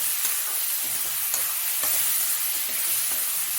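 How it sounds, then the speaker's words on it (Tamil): Tomatoes and green chillies sauté in a hot pan for a dal and pulse gravy, a soft continuous sizzle broken by a few light scraping stirs, with no voices. "தக்காளியும் நல்லா வேகணும், அது வரைக்கும் நல்லா மிக்ஸ் பண்ணிக்கலாம்"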